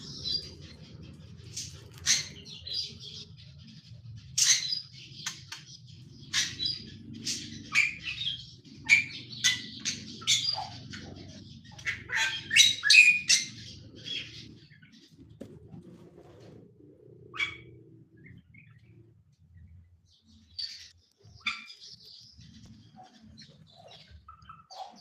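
Birds in an aviary, a magpie robin and a pair of Bali mynas, call with scattered chirps, squawks and cooing, some near and sharp, others softer, over a low background hum.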